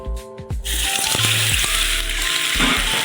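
A pan of hot oil seasoned with a pinch of turmeric sizzles loudly and steadily, ready for small potatoes for aloo dum, with a few low clinks of a utensil against the pan near the start.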